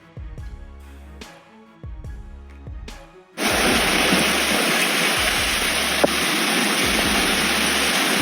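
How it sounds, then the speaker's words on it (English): Heavy rain pours down during flash flooding at Banora Point, NSW, Australia, with drains overflowing into a park. A few low thumps over near-quiet give way to a loud, steady rush of rain and running water that continues to the end. "We got some heavy rain here in Banora."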